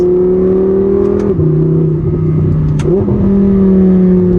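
A 2014 Audi R8 V10 DCT engine hums loudly up close, its pitch dipping and rising through gear changes, with no one speaking.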